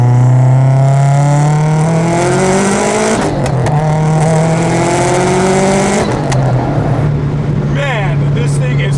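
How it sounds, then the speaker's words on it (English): 500hp 2008 Subaru WRX accelerating hard, engine pitch climbing through the gears with shifts, turbocharger spooling and fluttering, loud and close from inside the car, with brief speech mixed in. "Just a little bit and you hear that turbocharger just start to spool."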